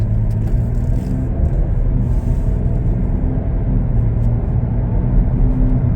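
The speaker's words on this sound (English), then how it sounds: "Quick acceleration, feels smooth, drives really nice." A 2021 Chevrolet Blazer LT accelerating on the road, a steady, loud engine rumble and tire roar close inside the cabin, holding even throughout with no talking.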